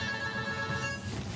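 A telephone rings during a home gathering, a steady electronic ringtone tone held for over a second at moderate volume, then cutting off, with no voices over it.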